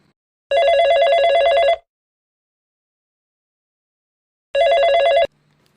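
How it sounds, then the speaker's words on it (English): A telephone rings for a call-in line in two bursts of electronic trilling, each about a second long, loud and clear with silence between. "right now, let's open the phone line to anyone who would also like to help Joshua"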